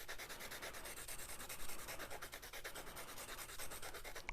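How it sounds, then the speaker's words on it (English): Pencil lead being turned and rubbed against a sanding pad to sharpen it, giving a steady, close, rhythmic scratchy rasping that holds evenly throughout with no voices. "So you want to turn and rotate your lead as you sharpen it."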